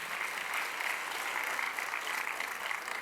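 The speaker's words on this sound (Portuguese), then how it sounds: "Aplauda bem forte ao Senhor." A church congregation applauding during a Sunday service, a dense continuous clatter of many hands clapping at a steady level for the full few seconds, with no talk over it.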